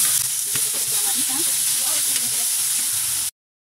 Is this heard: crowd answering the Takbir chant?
no